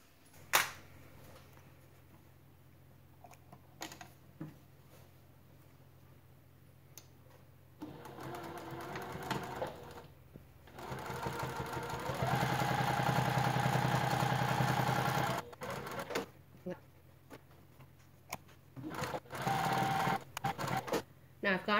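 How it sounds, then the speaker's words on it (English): Sewing machine top stitching exterior fabric panels of a crossover bag at 1/8 inch, short bursts and one long sustained whirring run, with pauses between stitching and occasional speech. "just take it back to the sewing machine at 1/8 inch and top stitch both the exterior panels on the bottom"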